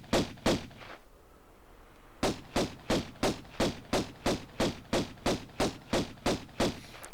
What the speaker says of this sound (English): Walk to the edge of this slab and then shoot at both of the Black Panthers.